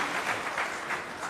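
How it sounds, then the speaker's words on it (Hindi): Brief applause at a political jayanti ceremony as a minister arrives, with a short burst of crowd clapping that sounds fairly faint and distant and pulses slightly. "उनके लिए जोरदार ताली बजाइएगा।"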